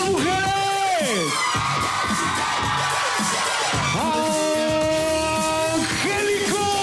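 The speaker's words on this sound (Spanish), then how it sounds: "un grito de las mujeres." A lucha libre crowd at an AAA Worldwide wrestling event in Tlalnepantla, Mexico, erupts in loud, sustained high-pitched screams and whoops from women, rising and falling in waves with some shouting.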